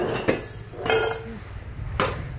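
An aluminum non-stick cooking pot, French-made, 19 cm across and 10 cm tall, is handled with a few close metallic clinks and knocks spread over a couple of seconds, with no talking.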